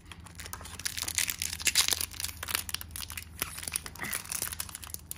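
Sealed foil packs of AFL trading cards are torn and crinkled open by hand, with bursts of sharp crackling, rustling and ripping at close range, no voices heard.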